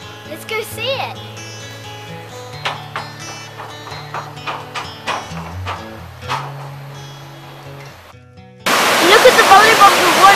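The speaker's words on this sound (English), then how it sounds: "I can hear the waterfall." Fitzroy Falls, 81 meters high, gives a loud broadband rush of water that cuts in abruptly near the end, after a stretch of music-like tones and scattered knocks.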